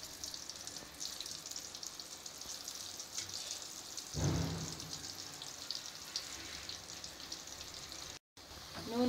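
Banana slices frying in hot oil, a steady dense sizzle with crackling bubbles running throughout, close and even, with a brief stir midway.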